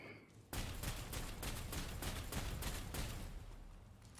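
A barricade explodes in the video game Necromunda: a sudden loud blast followed by a dense, sustained rumbling crackle of debris and gunfire-like bursts that slowly fades over about four seconds.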